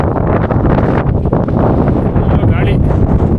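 Strong wind buffets the microphone at Patte Pare viewpoint near Pushpagiri in Coorg during the monsoon, a steady loud roar with gusting surges that runs without a break.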